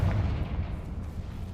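The Confringo spell blast in Hogwarts Legacy lands as a heavy, booming low-end explosion that rumbles loudly and then fades over about a second and a half.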